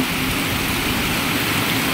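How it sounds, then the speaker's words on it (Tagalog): Heavy rain pours down in a steady, dense roar, loud and continuous without a break. "Sobrang lakas ng ulan."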